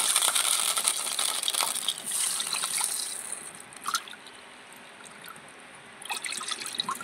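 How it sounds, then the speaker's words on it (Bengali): Water is poured from a bowl into a pan for sugar syrup in a home kitchen, a close hissing splash lasting a few seconds, then a few drips and a faint trickle. "এই বাটি 2 বাটি জল দিয়ে দেবো।"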